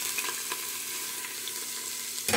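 Garlic sizzles in butter in a hot cooking pot, a steady close crackling fry with a brief louder burst at the end; no voices.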